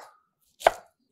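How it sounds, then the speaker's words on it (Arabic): A single sharp knife chop cuts through vegetables on a board, one crisp close strike in near silence. "وننبسط وإحنا جالسين نقطع الخضروات"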